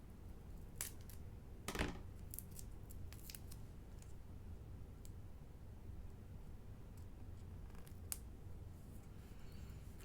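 Scissors snip through paper for a holiday embellishment box kit, giving a few quick, close cuts and crisp clicks scattered over a quiet background.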